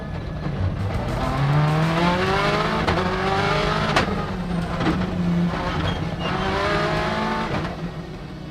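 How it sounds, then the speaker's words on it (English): A 2000 Subaru Impreza WRC rally car engine, loud, high-pitched and raw, revving up and down through repeated rising gear pulls with brief pops between shifts, close and continuous. "There was something about the engine noise of that 2000 Subaru. It sounded angry, high-pitched and raw somehow."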